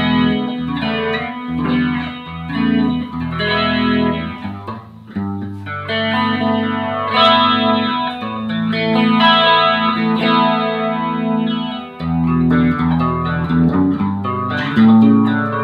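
A Fender Telecaster Thinline electric guitar with two humbuckers and a maple fretboard plays a clean-toned passage of chords and single notes with a slight chorus shimmer, steady and close with no talking.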